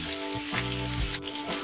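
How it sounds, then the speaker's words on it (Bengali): Onion, green chilli and tomato fry over a medium flame in a pan, a soft continuous sizzle with a couple of stirring scrapes, brief and fairly quiet. "এগুলো যতক্ষণ না নরম হচ্ছে ততক্ষণ পর্যন্ত একটু মিডিয়াম ফ্লেমে ফ্রাই করে"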